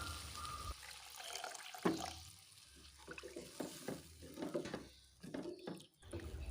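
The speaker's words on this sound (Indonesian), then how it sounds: "Selanjutnya masukkan air secukupnya." Water is poured into a pan of tofu and long bean dish as it cooks, a faint splashing and trickling in a quiet kitchen with soft clinks.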